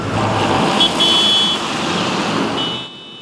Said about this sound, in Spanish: el ruido de los pitos no se hace esperar